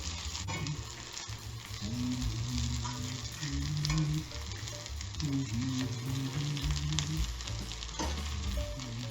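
Zucchini fritters sizzle steadily in hot oil on an old stove, a dense continuous frying crackle with some lower hum and occasional clatter, close and fairly loud throughout.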